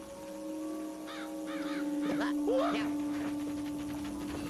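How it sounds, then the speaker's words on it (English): Crows caw in the video game Luigi's Mansion Dark Moon, several harsh, repeated calls in quick bursts over a steady electronic hum, fairly close and clear. "Get these birds out of the way."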